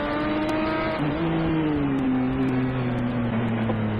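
A Triple T Racing Corvette C6R race car drives past on the track during an endurance race, its loud engine note holding steady then dropping in pitch as it goes by, with another car audible nearby.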